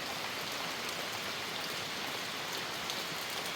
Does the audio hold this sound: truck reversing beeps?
no